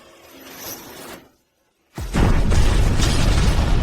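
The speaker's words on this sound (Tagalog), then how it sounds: "Pinapasabog ni Wang Chen ang gusali." A building is blown up: after a brief hush, a sudden heavy boom erupts into a loud, sustained roar of blast and debris that fills the rest of the moment.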